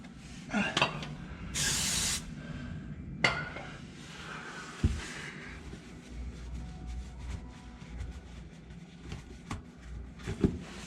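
Brake cleaner sprays in a short hissing burst during an Allison 3000 transmission service, surrounded by scattered metallic clinks, knocks and workshop noise, with no clear talking.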